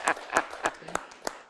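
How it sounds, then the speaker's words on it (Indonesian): An audience breaks into brief applause at an Indonesian talk event, with a few sharp, separate claps standing out over a thin, quiet patter that fades within a couple of seconds. "tepuk tangan untuk Mas Agus."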